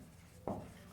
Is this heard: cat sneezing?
no